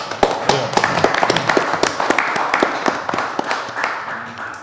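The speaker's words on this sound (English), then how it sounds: "need to give them a round of applause for the job well that they do" A round of applause at a council meeting for the work crew, dense irregular hand claps from a roomful of people, fairly close and steady, gradually thinning toward the end.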